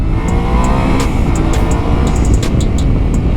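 Steady loud Yamaha Ténéré 700 World Raid motorcycle engine drone while riding, with sharp little ticks and clicks scattered over the rumble.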